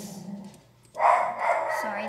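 A pet dog barks in the room, giving a short burst of loud, close yaps that cut in after a quiet moment.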